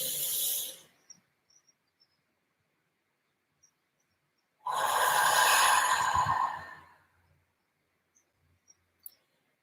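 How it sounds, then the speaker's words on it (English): A deliberate deep inhale during a relaxation exercise, drawn in as a breathy rush lasting about two seconds after a shorter breath sound, with near silence and faint clicks in between. "So I'm going to breathe in."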